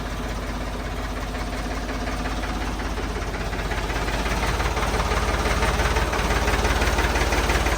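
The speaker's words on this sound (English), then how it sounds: "Pretty good for a 50-year-old tractor." A 50-year-old farm tractor engine idles steadily with a dense, rhythmic knocking rumble that holds close and loud throughout and grows slightly stronger toward the end.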